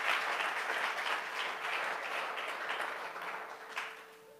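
Church congregation applauding steadily for several seconds, a dense even patter of many hands that fades slightly toward the end, with no talk over it.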